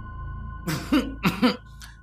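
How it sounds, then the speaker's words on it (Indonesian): Two or three harsh coughs in quick succession, fairly close, followed by a faint trailing rasp, over a quiet humming background. "suara batuk itu seperti terus saja membuntuti"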